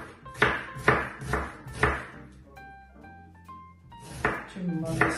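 An onion chopped with a knife in a home kitchen: five or six sharp, evenly spaced blade knocks on a board, a short pause with faint ringing tones, then more chopping.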